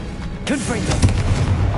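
A Confringo spell blast in the Hogwarts Legacy video game: a booming, artillery-like impact with a rumbling tail over a short burst of game sound, loud and close.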